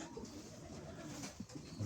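A pigeon in a pigeon loft coos softly over a steady background hum, the low calls repeating a few times.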